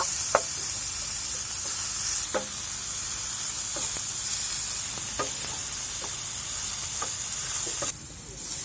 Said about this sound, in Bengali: এগুলোকে একটু ভালো করে ভেজে নেব।